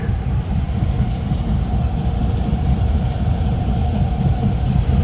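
Car driving on the M6 highway between Volgograd and Moscow, tires giving a steady rumbling drone with faint rhythmic thumps over road joints, much like train wheels, continuous and moderately loud.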